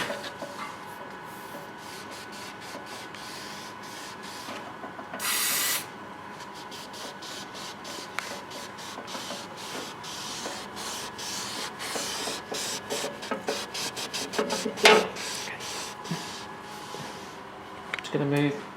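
Cleaner is sprayed onto a cloth in one short, sharp burst, then the cloth rubs along the cutting strip of an Intec SC5000 digital sheet cutter with steady scrubbing, clicks and faint speech in the background.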